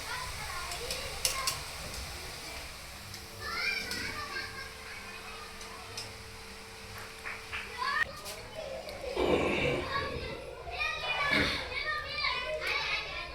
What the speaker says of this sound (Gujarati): આ રીતે આપણે બધી સેવને પાડી લેશું અને પછી તેને પકવી લેશું